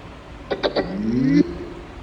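A JBL Go 2 portable Bluetooth speaker plays its power-on signature: three quick percussive taps followed by a rising tonal sweep that cuts off sharply, close and clear over a quiet background.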